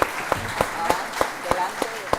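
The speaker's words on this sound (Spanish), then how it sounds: "Un aplauso para Diego también," A small group of listeners gives a few steady claps, about every third of a second, for a speaker at a conference talk on natural waste solutions, with a voice faintly underneath.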